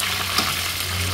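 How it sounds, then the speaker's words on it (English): Fish fries in hot oil in a pan, with curry goat and gungo rice cooking nearby, a dense steady sizzle with a faint scrape as the pieces are turned, close and without talking. "when you're frying your fish, you know you have to make one side of the fish fry properly before you can turn it"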